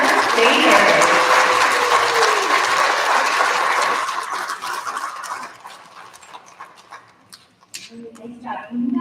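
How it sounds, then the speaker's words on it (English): A school recognition ceremony audience claps for first graders: dense, steady applause fills the room for about four seconds, then thins into scattered claps with some voices murmuring near the end. "A big round of applause for our first graders"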